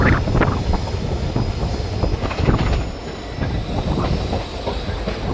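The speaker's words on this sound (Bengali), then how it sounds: "ট্রেন এটা রাজা ভাত খাওয়া স্টেশন স্কিপ করছে" An InterCity Express train runs through the dense Buxa forest in the Dooars, skipping a station, with steady rolling rumble, rhythmic wheel clatter and faint squeal, loud and close, with no talk.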